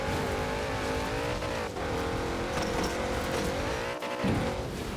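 A Porsche engine roars steadily in Forza Horizon 4, revving and shifting pitch with a brief tire squeal and a momentary dip near the end, loud and continuous with no talk.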